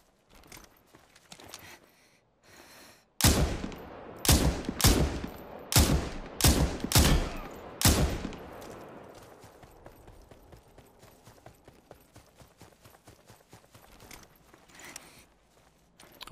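Gunfire rings out in the battle royale game Super People: a burst of about eight loud, sharp shots in uneven rhythm, then fainter scattered pops and clicks as the shooting fades.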